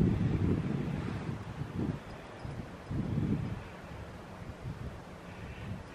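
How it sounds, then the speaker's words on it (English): Strong wind gusting outdoors in the Quartzsite desert near trees, rumbling in low buffeting surges that rise and fall, with a calmer stretch toward the end. "It is extremely windy today."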